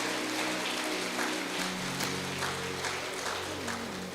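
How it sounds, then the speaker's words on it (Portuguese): A church congregation applauds in praise during a sermon, a dense, continuous patter of many hands clapping at fairly close range, with a low musical hum running underneath. "Dê um aplauso a Jesus."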